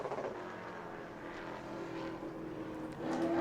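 A Pro Late Model race car lapping New Smyrna Speedway in qualifying, its engine droning at a distance and swelling louder near the end.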